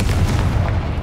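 A short, loud, muffled boom from a Confringo explosion spell in the game Hogwarts Legacy, a single low blast filling the whole moment.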